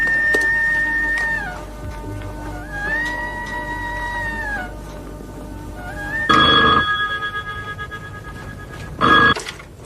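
Telephone in a 1992 Pakistani TV drama rings in two loud, trilling electronic bursts, one near the middle and a shorter one near the end. Softer, wavering tonal sounds come before the rings, and no one speaks.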